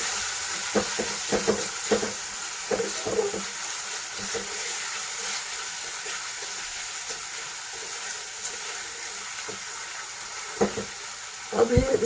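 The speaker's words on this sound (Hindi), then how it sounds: "अब इस टमाटर को हम थोड़ी देर भूनेंगे।" Tomatoes fry with spices in a pan for a Sindhi white lima bean (lobia) dish, giving a steady low sizzle with scattered clicks and scrapes of stirring throughout.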